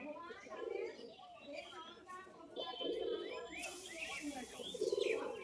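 Andhra full-shira pigeons coo nearby in a loft, giving soft, rhythmic coos that repeat about every second and a half over faint chirps and background noise.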